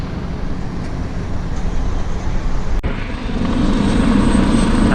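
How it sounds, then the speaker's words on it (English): A helicopter flies low and loud in Hong Kong, its engine and rotor roar steady and close, building slightly toward the end as it comes in to land, with no voices over it. "That's the helicopter of victory."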